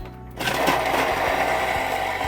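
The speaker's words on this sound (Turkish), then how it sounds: "Ve şimdi hepsini blend ediyor." A kitchen blender whirs loudly and steadily as it purées onion, garlic and olive oil, the motor holding a constant drone with slight shifts in pitch as the blades chop through the ingredients.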